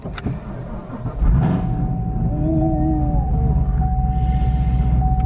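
The engine of a 1000-horsepower Camaro ZL1 with a manual gearbox cranks and catches, then settles into a deep, loud, close rumbling idle that holds steady without talk.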